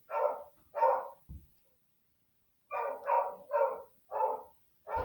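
Nearby, a house dog lets out two sharp barks, falls quiet for over a second, then returns with a steady string of four or five barks, loud and unaccompanied by voices.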